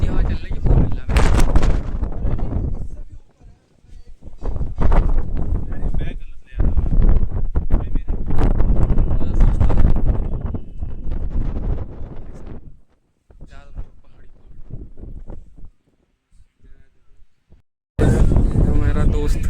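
Strong wind on a mountain peak near Rishikesh pounds the microphone in loud, roaring gusts that come in bursts with short lulls between them, and voices are partly buried beneath it.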